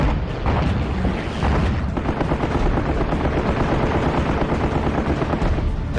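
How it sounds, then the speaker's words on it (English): Anti-aircraft flak fire from Japanese warships at the Battle of Leyte Gulf against attacking American carrier planes, with dense rapid gunfire and booming bursts in a continuous loud barrage. "The gutsy pilots brave a sky torn with flak."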